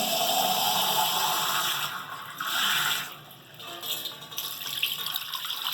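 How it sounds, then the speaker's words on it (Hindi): Water is poured into a pot of nihari stew, a steady rushing, splashing stream that runs continuously for several seconds and briefly dips and swells, close by with no talking. "ये हम देख रहे हैं कि पानी कम है इसमें तो हम इसमें और पानी डालेंगे"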